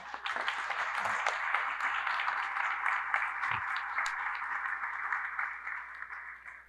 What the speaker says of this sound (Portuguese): Palmas para o anfitrião